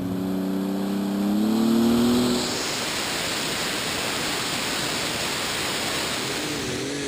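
A superstock pulling tractor's engine roars during a pull at a tractor pulling event in Herning, Denmark, a loud, broad, sustained rush of engine noise with a brief rising surge near the start, heard from a distance.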